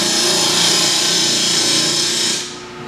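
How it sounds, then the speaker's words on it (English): A woodturning tool cuts steadily into spinning wood for a lampshade, a loud continuous scraping whir that holds even for over two seconds before easing off. "I'm actually rubbing the bevel on that cut surface"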